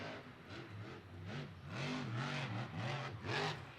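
Krysten Anderson's monster truck engine at Monster Jam revs in repeated rising surges, heard at a distance, with the whine climbing and falling several times over a steady crowd-and-arena background.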